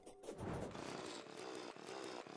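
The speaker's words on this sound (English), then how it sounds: "I'm going to use the drill on him." A drill runs in the video game Terraria, giving a loud, continuous buzzing grind like a small chainsaw motor, sustained throughout with slight pulsing and no speech.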